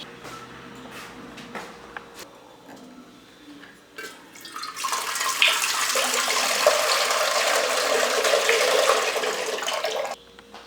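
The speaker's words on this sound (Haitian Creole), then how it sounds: "Je vais mettre l'eau à chauffer." Tap water gushes steadily into a pot being filled for heating, a loud, close, continuous rush that starts after a few seconds of small clatter and stops abruptly near the end.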